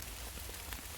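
Rain falls under a very dark sky during an October mushroom hunt, a brief, dense, even patter with no talk.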